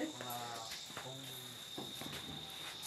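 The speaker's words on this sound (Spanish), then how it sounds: "escucho mucha chicharra y muchos grillos y muchas cosas" Cicadas and crickets chirp in a dense, continuous high trill, with a few lower insect buzzes and faint background sounds mixed in.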